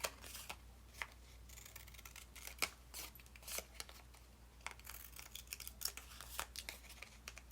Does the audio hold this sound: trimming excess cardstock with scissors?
yes